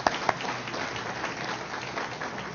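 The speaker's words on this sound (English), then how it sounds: "Yes, that deserves applause." An audience claps at an outdoor groundbreaking ceremony for a wellness center. The applause is moderately loud and steady, with a couple of sharper claps at the start.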